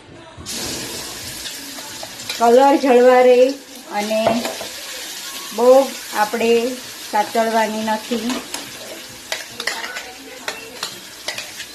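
Green garlic chutney spooned into hot ghee sizzles and crackles up close, with louder bursts of spitting and scraping as spoonfuls hit the pan, then a steady fry with clinks of the spoon.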